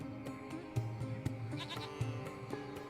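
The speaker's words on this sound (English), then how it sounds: "It's a small goat." Faint goat bleats from a small goat in the video game Lost Horizon sound a few times over a low steady background hum, quiet and somewhat distant.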